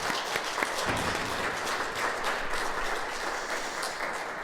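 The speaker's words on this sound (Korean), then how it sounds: "찬양대에 다시 한번 격려의 박수 한번 하겠습니다." A church congregation applauds its choir during a Sunday worship service, producing dense, steady clapping that fills the room for the whole stretch without any talk.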